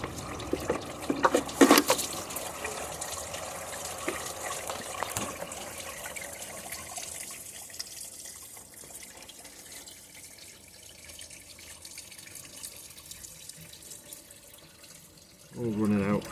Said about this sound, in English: all the water's coming out now